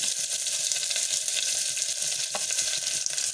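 Finely chopped onion frying in a pan for dal curry makes a constant loud sizzle and hiss, with a spoon stirring and scraping through it and no voices.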